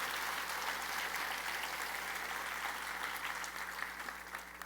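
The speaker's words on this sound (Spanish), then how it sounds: "dele un fuerte aplauso" A church congregation gives sustained applause, a quiet, even, distant patter of many hands over a low steady hum in the room.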